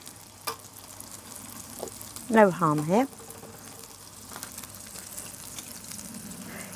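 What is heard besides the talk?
burgers sizzling in a pan in a motorhome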